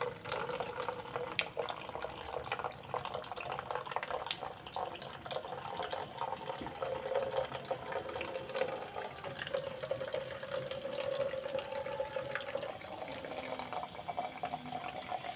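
Water from a homemade filter runs in a steady, continuous trickle and splash, close and moderately loud, with no one speaking.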